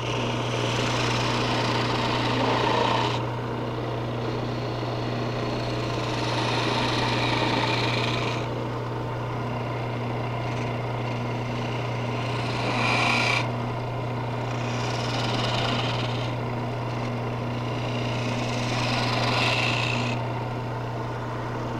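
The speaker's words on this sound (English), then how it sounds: "I'm going to take my small gouge and refine these coves a little bit too" A small gouge refines the coves of a wooden baluster spinning on a lathe. A steady motor hum runs throughout, broken by several rasping cutting passes of a few seconds each. The sound is close and continuous, with no talk.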